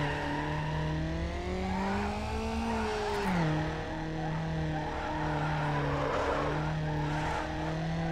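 Car engine revving with a tire squeal while racing in Need for Speed Underground, a street-racing video game; a steady, loud engine drone rises and falls in pitch with gear shifts, a sharp squeal near the middle and more skids later.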